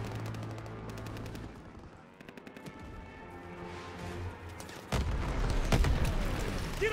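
Anti-aircraft gun fire in the Call of Duty WWII video game: rapid repeated shots crackle in bursts over rumbling battle noise, growing louder and denser toward the end.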